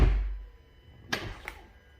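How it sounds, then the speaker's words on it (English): A Tesla parked in a garage gives two soft, close clicks about a third of a second apart, set against a faint, low background hum in an otherwise quiet space. "So you could hear a click,"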